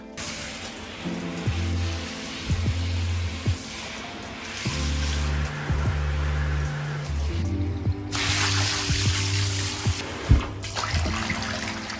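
Water runs and splashes while a bathtub is rinsed out during bathroom cleaning, a steady close wash with a few brief breaks and knocks along the way.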